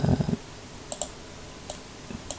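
A computer mouse clicks in scientific simulation software, with three or four sharp, faint single clicks spaced apart over quiet room noise.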